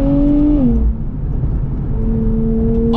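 A Nissan Z Nismo with automatic transmission driving in Sport Plus mode gives a loud close engine drone, its pitch dropping as it shifts and then holding a steady tone under cabin rumble.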